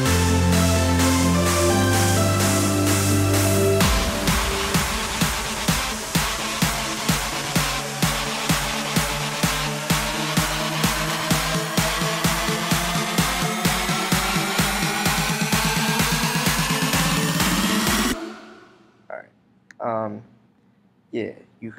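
Synth leads pulsing through a Big Room House build-up: loud, bright chords hit in a steady repeating rhythm under rising layers, then cut off abruptly to near-silence with a few sparse stabs.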